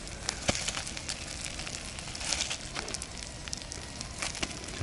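An outdoor campfire at an overnight fishing camp, potatoes and salted pork lard roasting in the embers, gives soft, scattered crackles and pops over a low, steady hiss.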